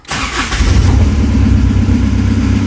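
A TDI diesel engine swapped into a Toyota cranks briefly, catches and settles into a loud, close, steady running rumble that rises as it revs, with no talking.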